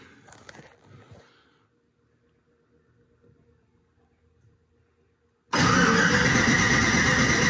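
After a few seconds of near silence, a turbocharged Mustang with an L33 engine bursts into loud, sustained cranking on a weak battery, a harsh, even whir heard up close.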